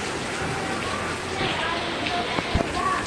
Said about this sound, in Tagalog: lakas ng ulan dito sa Nawan